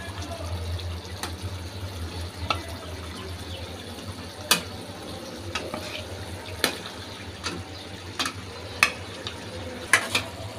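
Pieces of rohu fish fry in spice masala with a low, steady sizzle, broken by scattered sharp scrapes and clicks of stirring that come roughly every second or two.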